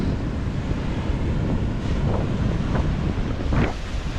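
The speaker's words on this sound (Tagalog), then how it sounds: "Lakas ng alon" Strong wind buffets the microphone while heavy sea waves surge and roar in a steady wash, with a few louder swells.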